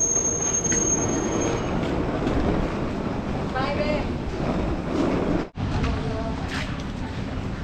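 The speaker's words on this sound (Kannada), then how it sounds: "ಫೈನಲಿ ನಮ್ಮ ಟ್ರೈನ್ ಬಂತು" A passenger train pulls into an Indian railway station with a steady rumble of wheels and carriages and squealing rails, loud and close throughout, with a brief sharp dip in the noise partway through.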